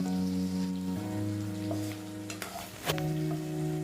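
Brinjal dropped into hot oil with mashed, sautéed tomatoes for a spicy kara kuzhambu, giving a steady close sizzle and crackle with a few brief stirring clinks, no voices.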